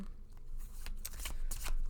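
Thin, very flexible tarot cards from an antique anatomy deck are shuffled by hand, giving a close run of papery riffling bursts and soft slaps that build toward the end, with no talking.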